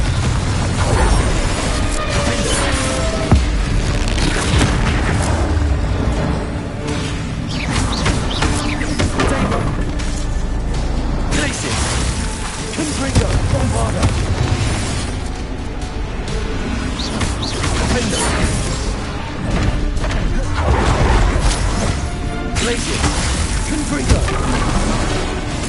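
Spell blasts from Bombarda and Confringo spells in the Hogwarts Legacy video game, with loud repeated booming explosions and crashes. They come in waves over a dense, busy game soundscape.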